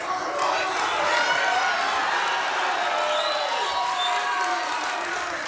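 A North Melbourne cheer squad in a TV studio audience, a steady wash of crowd cheering and applause that holds throughout, loud and close with no pauses.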